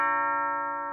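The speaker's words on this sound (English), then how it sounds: "I do hear a doorbell." A single doorbell chime rings as one clear, sustained tone that slowly fades, fairly quiet and heard alone.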